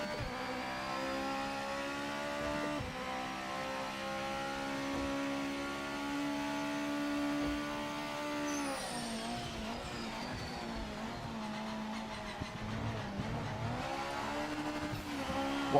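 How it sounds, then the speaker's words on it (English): A GT500 race car with a 2-liter 4-cylinder turbo engine runs in the Project Motor Racing video game, revving fairly faintly with rising and falling engine notes as gears change, heard as a continuous drone. "This is a 2-liter 4-cylinder turbo, by the way."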